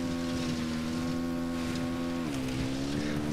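Tractor engine in Ghost Recon Wildlands droning steadily at close range with a low harmonic hum, its pitch dipping slightly partway through, heard alone without talk.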